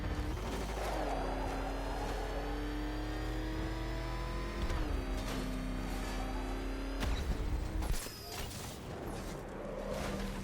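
A car in the video game Batman Arkham Knight drives hard with a steady engine drone that rises and shifts pitch as it revs, loud and continuous, with a brief crash-like burst near the end.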